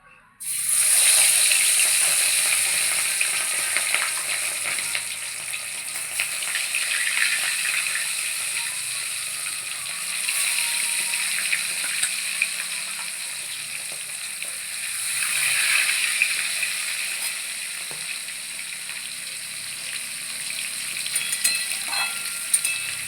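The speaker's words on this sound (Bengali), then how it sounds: "এবারে আমি দেখুন কড়াইয়ে সর্ষের তেল দিয়ে দিয়েছি, আমি মাছগুলো ভাজা বসাচ্ছি" Katapona fish pieces fry in mustard oil in a wok, giving a steady, bright sizzle and hiss that carries on for over twenty seconds, with small crackles and no one talking.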